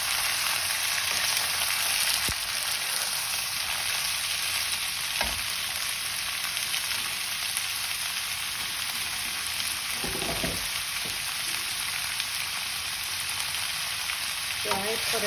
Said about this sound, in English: I will put in my potatoes into this. And I need to give it a nice stir. We have to just fry the potatoes a little.